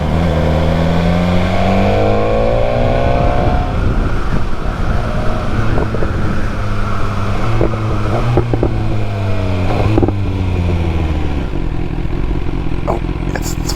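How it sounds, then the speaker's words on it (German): BMW S1000R motorcycle with a loud exhaust, heard while riding: a continuous, close engine drone with shifting revs and wind buffeting throughout, plus faint squeaks. "Ich glaube, mittlerweile ist der Auspuff zu laut."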